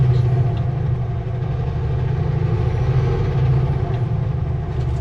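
A truck climbing through its gears on a road between Adams Lake and Sicamous in the Shuswap, British Columbia: a loud, steady low engine drone that dips briefly as a gear change comes through.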